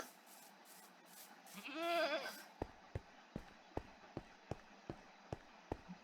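Goats in the Minecraft video game let out a wavering bleat, followed by a quick series of sharp, regular clicks or footsteps.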